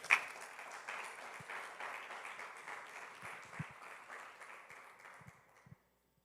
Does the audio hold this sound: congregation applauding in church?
yes